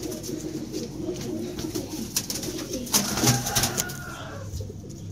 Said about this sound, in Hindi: तो ये कबूतर अच्छा है,